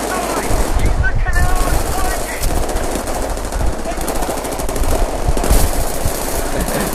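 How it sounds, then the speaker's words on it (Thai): Battlefield 3 video game gunfire: loud, rapid machine-gun bursts rattle almost continuously over a dense battle rumble, with rounds crackling and a brief lull before the shooting resumes. "มันยิงอะไรกันเนี่ย"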